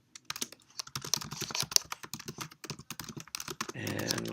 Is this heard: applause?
no